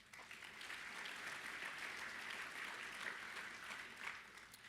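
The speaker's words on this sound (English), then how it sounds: "Please give yourselves a round of applause." Audience applause at the annual meeting of a bowling convention, a sustained wash of many hands clapping, steady and fairly faint as if from across a large hall.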